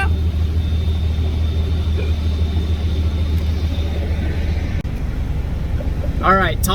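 A drift-built Nissan S14 with a fully caged, tubed front and a VQ35HR engine swap rumbles at low idle as it creeps onto a scale, a steady close engine drone with a sharp knock midway and talk nearby.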